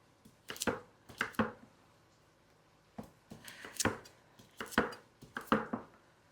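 A knife chops carrots into large pieces on a cutting board in quick bursts of crisp, close thuds with short pauses between them, no voices.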